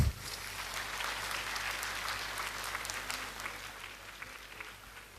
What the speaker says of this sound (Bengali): আরেকবার একটু জোরে করতালি হোক